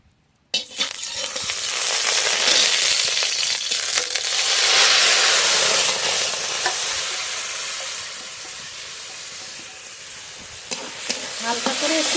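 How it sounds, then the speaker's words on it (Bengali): Lentils sizzling and frying in hot mustard oil in a pan, a loud steady crackle starting abruptly and continuing throughout with occasional stirring scrapes, no talking. "হালকা করে একটু ভেজে নেব ডালটা।"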